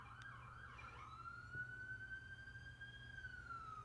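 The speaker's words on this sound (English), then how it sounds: "there's so many sirens that go off around my apartment" A single siren wails in the distance, its tone rising and holding steady, faint over a low background hum.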